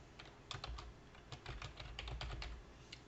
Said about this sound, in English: we're going to type in our management